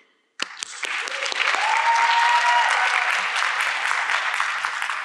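Audience applause welcoming a speaker at a talk event, breaking out suddenly after a brief silence and swelling into sustained, dense clapping from a sizeable crowd.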